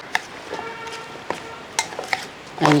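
Sambar vegetables coated in masala being stirred in a pot, a spoon clinking and scraping against the metal in scattered light knocks, quiet and close.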